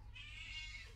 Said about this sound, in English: The cat wants in.